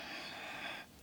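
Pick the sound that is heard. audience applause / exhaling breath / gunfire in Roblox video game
exhaling breath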